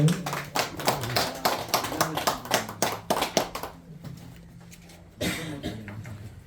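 A small audience at a Korean concert event claps in welcome for an invited speaker: a run of distinct, loose handclaps that fades out after a few seconds, followed by a hush and then a voice beginning to speak.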